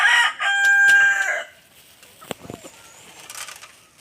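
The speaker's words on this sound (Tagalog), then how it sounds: "Magpapatuka ako ng manok." Outdoors at a backyard chicken feeding, a rooster crows loudly and close for about a second, then chickens cluck softly and scratch about.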